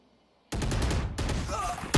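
Gunfire in a Valorant pro esports match on the Icebox map, a sudden loud burst of shots breaking in after a half-second of near silence, sustained with a second onset midway and a sharp final hit, with a caster's voice mixed underneath.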